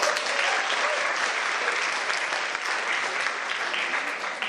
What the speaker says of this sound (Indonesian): Tepuk tangan untuk Pak Kiki